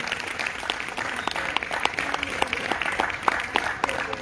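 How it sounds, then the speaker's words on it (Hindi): Participants in a live yoga and dance-fitness session clap for Jenisha, a small group giving sharp, scattered claps that continue unevenly throughout, with someone talking over them. "clap for जेनिशा"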